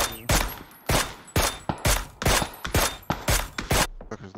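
Video game gunfire, sharp loud shots fired in a steady rhythm of about two per second, roughly eight in a row, close and punchy, stopping abruptly before the end.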